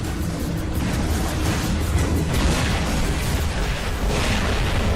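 An airstrike in the War Robots mech video game lands with heavy, rumbling explosions, a loud, continuous wash of booming blasts and debris noise filling the whole stretch.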